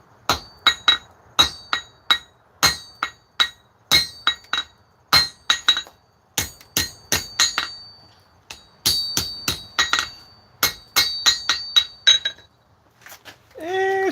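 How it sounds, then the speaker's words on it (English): Heavy hammer blows ring out on metal being forged, a long series of sharp, bright clanging strikes in uneven bursts and pauses, loud and close, with a clear metallic ring after each hit. "I think I might have to use my heavy hammer."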